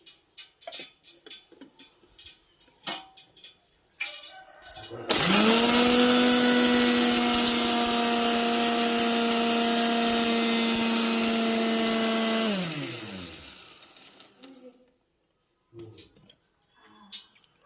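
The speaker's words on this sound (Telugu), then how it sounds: "ఇప్పుడైతే మా అమ్మ మిక్సీ వేస్తుంది" A mixer grinder grinding spices for chicken pickle whirs loudly and steadily for about seven seconds, then winds down to a stop, with quiet kitchen clatter before and after.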